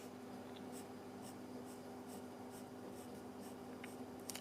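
A pencil draws short strokes on paper, a regular series of quick soft scratches close up against a faint steady hum, with no talking.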